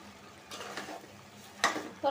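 Spoon stirring fish curry with potol in a pan, soft frying sizzle under a few scraping strokes and a sharp clink of metal against the pan near the end, quiet and close.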